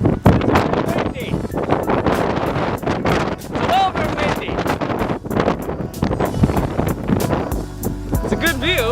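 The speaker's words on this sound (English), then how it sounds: "It is really windy." Strong wind buffets the microphone on an exposed Irish coastal path, a constant loud roar with gusty surges throughout, while a person talks over it.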